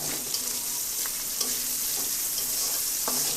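Pabda fish pieces fry in hot oil, salted to keep it from spitting, with a loud, steady hiss and scattered small crackles throughout and no talking.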